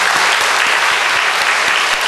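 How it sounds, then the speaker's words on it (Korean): A church congregation celebrating its 40th anniversary applauds together during a service: dense, steady, loud clapping that fills the whole stretch without a break. "성도 간에 우리 서로를 축하하기 위해서 박수 한번 하겠습니다."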